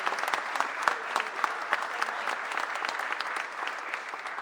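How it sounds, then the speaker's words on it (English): Audience applause at a mayor's press conference launching a business roundtable: a moderate group claps steadily with crisp individual claps audible, continuous for over four seconds. "Give a round of applause for Shelley."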